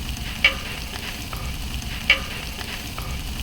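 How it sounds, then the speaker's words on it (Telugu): Cumin, urad dal and mustard seeds fry in about two tablespoons of hot oil in a pan, giving a steady close sizzle with two sharp metallic clinks of a spoon against the pan. No one talks. "కాగిన తర్వాత జీలకర్ర, మినప్పప్పు మరియు ఆవాలను వేసి వేయించుకోవాలి"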